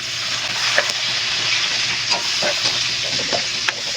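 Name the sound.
onion frying in pan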